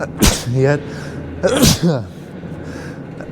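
A person sneezes sharply once and then once more a moment later inside an old wastewater treatment plant, loud and close, with other people talking around the sneezes.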